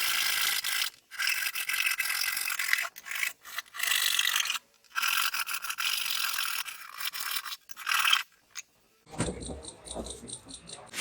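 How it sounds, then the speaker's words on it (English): A hacksaw blade cuts to separate a piece, making close, repeated rasping strokes in bursts with short pauses, then a different, finer scraping texture at the end; no voices. "And to separate this, I used hacksaw blade."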